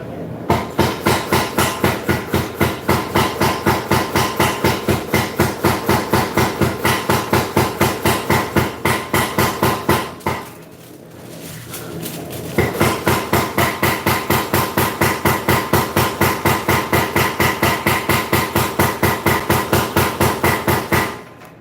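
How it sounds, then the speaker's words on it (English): A power hammer pounds steadily in a workshop where resin and burl handle blocks are being made, its rapid even blows continuing for about ten seconds, pausing briefly, then resuming at the same brisk rhythm, loud and with no talking. "What you're hearing in the background is actually the power hammer."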